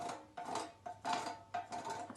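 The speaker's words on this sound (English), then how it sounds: "I've got a cheese grater. Have a listen to this sound." A cheese grater is scraped in four or five quick rough strokes, each a short burst of scratchy metallic rasping with brief pauses between, fairly quiet and close, with no voices.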